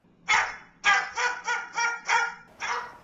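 Dog barking in a quick series of about six sharp, fairly close barks, evenly spaced and alone with no talking.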